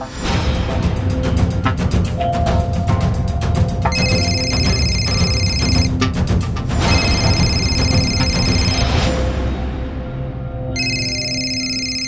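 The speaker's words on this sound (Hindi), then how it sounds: "ये हरमन फोन क्यों नहीं उठा रहा?" A telephone rings in repeated trilling bursts over a loud, busy background of music and ticking, continuing throughout.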